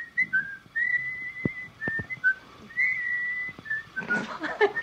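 Two people whistle a 1940s tune in a home setting, the clear melody running in short phrases with brief pauses and a few knocks before it trails off into a quiet voice.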